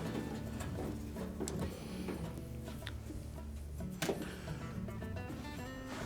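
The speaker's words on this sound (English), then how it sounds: "Then we'll install the 2 Phillips screws." A power screwdriver drives two Phillips screws into a GE dryer during front air duct replacement, giving a steady close whirring buzz with a few brief clicks and a louder jolt near the end.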